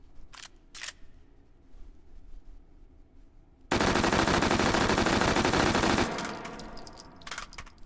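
An UMP45 submachine gun in a VR game fires one sustained burst of rapid shots, loud and close, after a few quieter clicks and handling knocks. The burst lasts about two seconds and then fades, followed by more small clicks.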